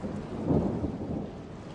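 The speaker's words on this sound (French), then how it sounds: "Voilà des jours qu'il pleut sans discontinuer dans la cordillère des Andes." Steady heavy rain pours during a thunderstorm in the Andes mountains, with a low rumble of thunder swelling briefly beneath the constant hiss.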